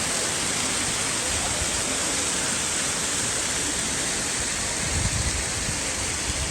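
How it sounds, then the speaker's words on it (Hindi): Rudra waterfall beside the Kedarnath trek roars loudly and continuously nearby, a thick wall of rushing water with no talk over it. "मेरे सामने है रुद्रा वाटरफॉल।"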